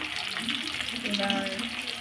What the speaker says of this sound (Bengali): পকোড়াটা হয়ে এসছে, পুরো কমপ্লিট ভাজা ভাজা হয়ে গেছে